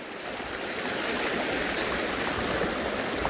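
Floodwater from a river flowing into a village after drizzling rain, a steady broadband rushing and gurgling wash at moderate level, continuous throughout with no voices.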